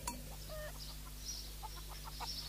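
Chicken clucking in short, soft bursts over a low steady hum, from an audiobook reading of George's Marvellous Medicine.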